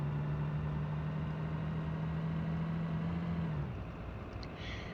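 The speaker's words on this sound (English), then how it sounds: "even now you can hear like the rattling of the bus" A bus in the BeamNG.drive driving game rattling and rumbling with a steady low engine drone and a sustained hum that fades slightly near the end, heard alone without talk.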